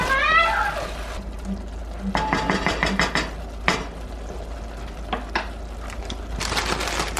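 Chopped tomatoes being stirred in a pan, heard as faint scraping and soft clinks of a utensil in small clusters, spread through a quiet kitchen with a low steady hum underneath.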